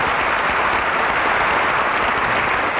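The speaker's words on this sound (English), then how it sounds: "you can give him a beautiful round of applause" An audience in a concert hall applauds steadily and loudly, a dense even wash of clapping throughout.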